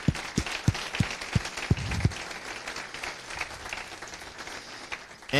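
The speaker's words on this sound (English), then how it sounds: "Big round of applause to all of the speakers because they were amazing" An audience at a Go lightning talks event breaks into applause for the speakers, with a few loud individual claps at first and then a steady wash of clapping from many hands that tapers off.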